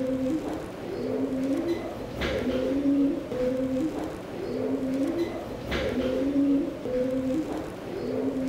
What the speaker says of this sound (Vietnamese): Ban đầu mình tưởng là tiếng gió nhưng hóa ra nó là một đàn bồ câu đang đậu ở trên này.